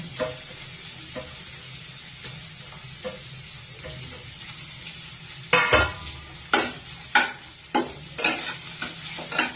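Chopped tomato and ginger-garlic paste fry in a pan under steady stirring, a constant low sizzle broken by repeated scraping strokes of a spoon that grow louder and more frequent in the second half.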